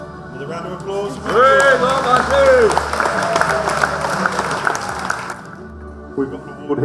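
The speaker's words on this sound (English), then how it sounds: "With a round of applause." A crowd claps warmly at a rural training awards night, with a lively sustained burst of applause that fades after several seconds; voices and a whoop or two ring out through it.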